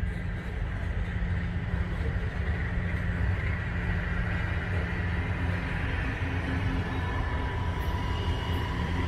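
A freight train slowly pulls a boxcar along the track at a rail yard, a steady low rumble and grinding roll running close and continuous with no talking.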